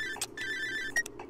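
A phone rings in the horror game Cry of Fear, a soft electronic ringtone with repeated tones and brief chirps, faint and alone.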